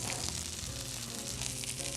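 Stuffed squash blossoms sizzle steadily in a hot, oil-covered pan, a continuous, fairly quiet frying hiss with no talking.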